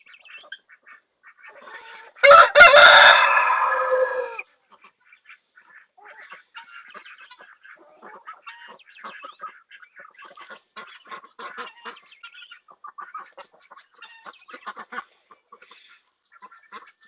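Ducks and chickens at a backyard feeding, a loud burst of quacking and clucking about two seconds long near the start, then scattered softer quacks and clucks continuing in the background.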